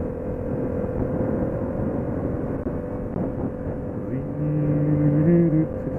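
A Yamaha FZ-07 motorcycle holds second gear at around 6,000 RPM at the Thunder in the Valley event. It makes a steady, droning engine hum that swells louder with a rising tone near the end, and there is no speech.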